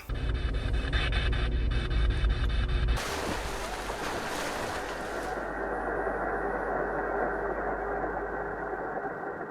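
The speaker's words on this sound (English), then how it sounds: "manipulate the waves of the radio as it flips rapidly through channels" A radio spirit box sweeps rapidly through channels, giving dense, hissing static with choppy flickering for the first few seconds, then a steadier wash of noise. The sound is continuous and fairly quiet, with no clear speech.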